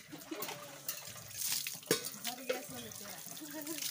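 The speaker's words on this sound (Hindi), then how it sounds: "एक ही टब से पानी भर रहे हैं" Water being scooped and poured from a tub, with sloshing, splashing and dripping close by and fairly faint, while voices talk over it.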